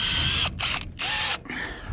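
Screws being driven into greenhouse panels with a power driver, three short whirring bursts with brief pauses between them, close and fairly loud.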